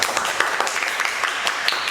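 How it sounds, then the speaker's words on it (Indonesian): A classroom of students claps for a group's presentation, a steady, fairly soft patter of many hands that carries on without a break. "kalau tidak ada kasih aplaus untuk kelompok 3"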